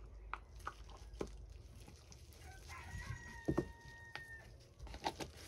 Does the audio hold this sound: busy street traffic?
no